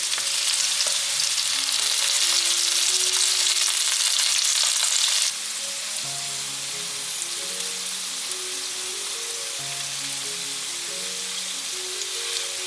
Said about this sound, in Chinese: 先让它煎一下，已经变成金黄色了